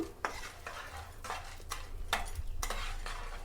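Husked black gram dal dry-roasts in a pan while a spoon stirs it in repeated scraping strokes, roughly half a dozen close rhythmic sweeps over a low steady hum.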